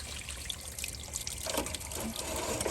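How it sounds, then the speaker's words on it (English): Water trickles and splashes steadily from the outlet of a gas-powered soft wash pump as it primes on a fresh system. The flow is moderately close and grows slightly fuller toward the end, with no talking. "See how there's water that's starting to come out of there now?"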